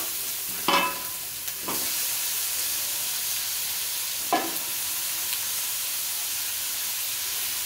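Onions and ground tomato sauté in a pan for egg noodles, giving a continuous close sizzle and hiss broken by three brief louder bursts of stirring, with no voices.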